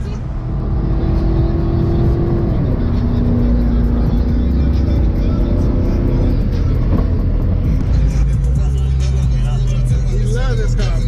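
A 1995 Ford Mustang SN95 SVT Cobra V8 running and revving, a steady droning engine note rising and falling in pitch over a low rumble, close and loud while people talk over it.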